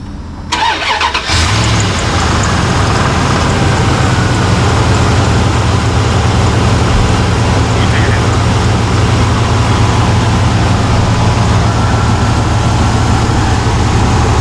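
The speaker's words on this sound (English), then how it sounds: "We're gonna start the truck and we'll see how far off I am." A Dodge truck with a 5.9 L engine cranks briefly and catches, then settles into a steady, loud idle close by that runs without a break to the end.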